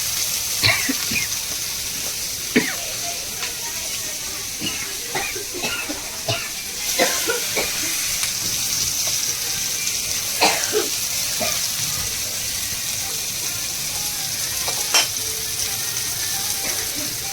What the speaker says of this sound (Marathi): आता दुसऱ्या साईडची मच्छी आपण फ्राय करायला ठेवली आहे बघा